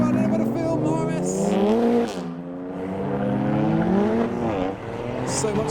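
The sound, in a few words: turbocharged car accelerating away from a car show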